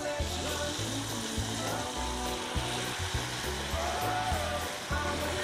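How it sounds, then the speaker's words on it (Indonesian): Shredded beef empal frying in hot oil gives a steady, loud sizzle throughout, with bursts of bubbling and occasional stirring scrapes and no voices. "Yuk, segera kita akan goreng empalnya juga."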